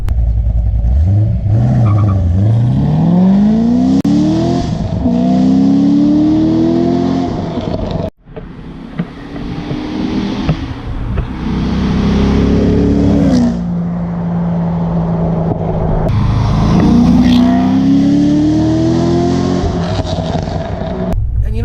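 A cammed 2006 Corvette Z06 V8 making 605 hp revs hard through several rising gear pulls, a loud, close engine roar with a brief break between runs and no talking.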